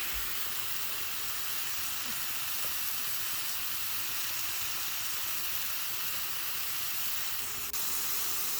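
Mediterranean kebab meat browning in a pan gives a steady, fairly loud hiss and sizzle of searing that runs unbroken throughout, with no talking.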